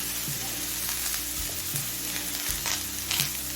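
Runner beans, eggplant and other vegetables with a spoonful of turmeric powder and salt fry steadily in a pan for a methi leaf chorchori, a continuous close sizzle with a few stirring scrapes and clinks.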